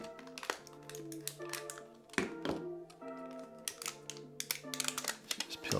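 Supcase Unicorn Beetle iPhone 12 case being taken apart, its inner and outer parts pried loose with a series of sharp close plastic clicks, taps and snaps, irregular and crisp with quiet gaps between.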